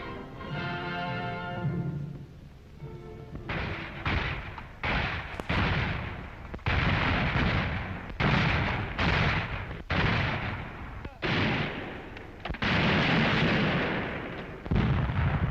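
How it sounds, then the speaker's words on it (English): Artillery fire pounds a French-held battlefield near Verdun, with repeated loud booming blasts in an irregular rhythm, some close and heavy, rolling over one another, after a lower rumbling opening. "The French, who repeatedly tries to stop the pursuit, cover the area with artillery fire"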